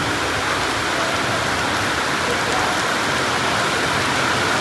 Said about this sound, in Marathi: भयानक पाऊस आहे